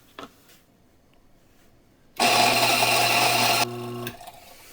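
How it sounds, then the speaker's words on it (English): An electric grinder grinding coffee beans for a Hario V60 pour over, a loud close whirring burst of about a second and a half that drops to a lower hum before stopping. "Grind my beans."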